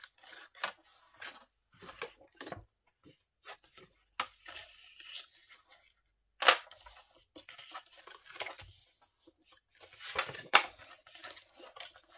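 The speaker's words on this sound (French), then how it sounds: "je fais mes plis, comme ceci" Paper being folded and creased by hand while making a tunnel photo album, with scattered soft rustles and a few sharp crisp snaps, quiet and close with gaps between them.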